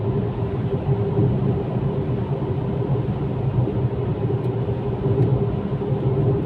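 Steady engine drone and road rumble from a Fiat Egea Cross 1.4 cruising at high speed during a top-speed test, a continuous even hum with no talking.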